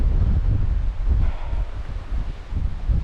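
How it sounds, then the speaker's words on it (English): Strong wind gusts on a mountain ridge batter the microphone in uneven surges of low, rumbling buffeting, easing briefly before gusting again. "today the wind is just so strong it keeps blowing you over backwards"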